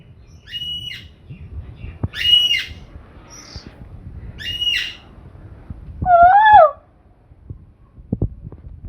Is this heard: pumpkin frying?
no